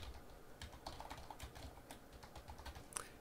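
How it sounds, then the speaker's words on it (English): Computer keyboard typing while writing Java code, a quiet run of irregular clicking keystrokes close by, with no one speaking. "we start typing here"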